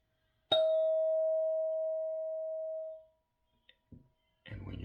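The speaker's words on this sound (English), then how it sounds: "sound the bell" A single mindfulness bell is struck once during a guided breathing session, ringing with a clear sustained tone that slowly fades over about two and a half seconds, followed by a couple of soft knocks and a quiet voice.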